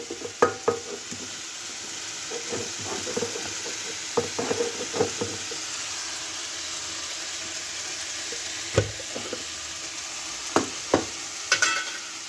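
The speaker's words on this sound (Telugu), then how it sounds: "అప్పుడప్పుడు మధ్య మధ్య కలుపుతున్నాం మళ్ళీ, లేకుంటే మాడిపోతుంది కర్రీ" Ivy gourd curry sizzles steadily in a pan while a spoon stirs it now and then, scraping and clinking in short sharp knocks above the constant close frying hiss.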